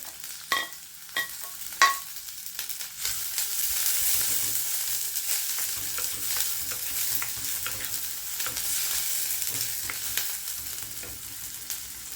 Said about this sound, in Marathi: आता लगेच ह्याच्यात आपण कांदा टाकून घेणार आहोत